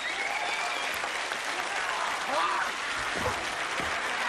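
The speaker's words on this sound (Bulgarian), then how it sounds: "Аплодисменти за Звезди! Аплодисменти за Ахат!" A studio audience at a televised celebrity impersonation show gives a dense, sustained round of clapping at an even, lively level throughout.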